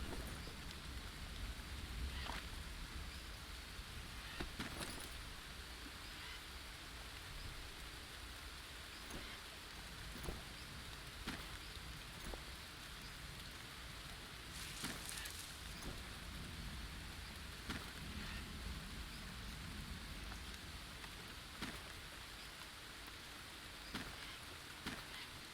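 Steady rain in the jungle survival video game Green Hell, a constant hiss of falling drops with occasional louder splashes and faint distant rumbles, alone without talking.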